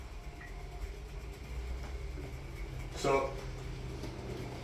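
A model railway train running on newly laid track with cork underlay, a faint continuous rolling rumble with a brief louder clatter midway, heard under a quiet voice.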